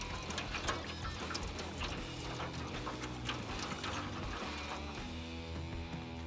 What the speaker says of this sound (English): I'm gonna go ahead and get my apple cider vinegar in my drip pan.